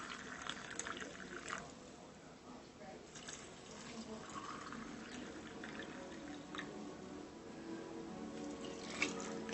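Broth is poured into canning jars of pinquito beans, a soft, quiet liquid trickle and splash in a home kitchen, with talking mixed in over the flow.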